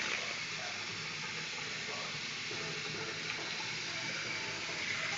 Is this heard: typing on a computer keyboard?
no